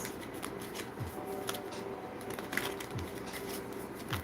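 Tarot cards shuffled in a riffle, a steady papery flutter with a few sharper snaps, close and continuous, alone without talk.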